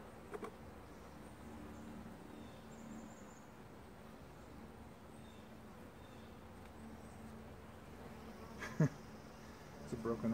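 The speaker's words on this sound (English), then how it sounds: "this hive is still cranking out the bees." Honey bees hum around an open beehive, a faint continuous drone over a quiet outdoor background, with a few brief louder knocks and rustles near the end.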